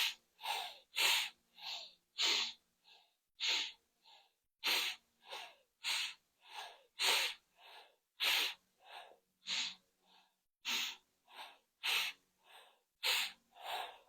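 Forceful yoga breathing, rapid rhythmic sharp exhalations through the nose repeated steadily about every half second, close and alone with no talking.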